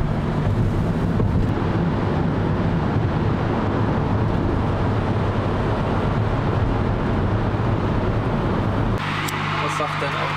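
Car driving into the Elbtunnel in Hamburg, a loud steady rush of road and wind noise inside the cabin that changes character near the end, with people talking over it.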